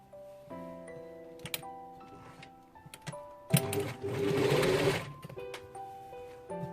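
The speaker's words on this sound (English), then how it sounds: "I'm sewing it with ½ inch." A sewing machine stitches a half-inch folded hem along the bottom of a gathered-waist dress, its needle whirring in steady bursts that swell into a louder continuous run midway before easing off.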